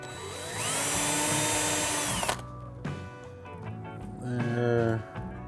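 A power drill boring holes in parts for a rolling shop cabinet with drawers: a loud, steady motor whine running about two seconds, then shorter bursts and spin-downs, with some handling clatter between.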